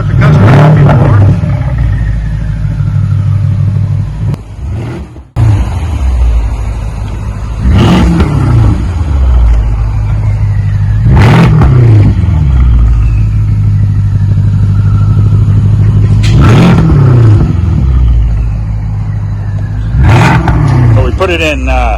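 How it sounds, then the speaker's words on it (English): With the active exhaust valve open in sport mode, a 2013 BMW 550i turbo V8 with muffler delete revs repeatedly, about six loud snarling blips spaced a few seconds apart over a deep steady idle, recorded up close. "Put it in sport mode, Sport X I think they call it. It sounds a lot better. It opens up the active exhaust valve"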